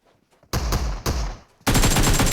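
Gunfire in the mobile game PUBG, heard as two sharp blasts followed by a sustained rapid burst, loud and close with no talk over it.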